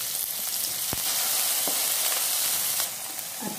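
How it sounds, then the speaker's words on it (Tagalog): Onions frying in hot oil with browned garlic in a pan, a steady loud sizzle throughout with a brief stir partway. "At kung brown na yung bawang, sumod ang sibuyas."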